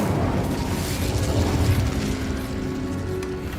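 Incendio fire spell cast in Hogwarts Legacy, a steady roaring, booming rush of flame with a deep rumbling low end that holds at a constant loudness for a few seconds, with no talking.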